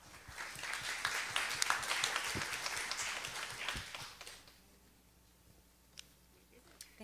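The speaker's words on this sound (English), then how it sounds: "So give her a round of applause." Church congregation applauding during a Sunday morning service, a dense wash of many hands clapping for several seconds before fading away, with voices heard in the room.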